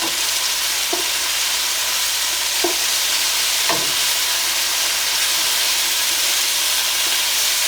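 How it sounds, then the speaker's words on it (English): Chicken pieces sizzling steadily in a hot pan for Monterey chicken, with a continuous frying hiss and a few soft clinks or stirring knocks at intervals, close and without talk. "we'll let it cook for about 4 or 5 minutes on this side"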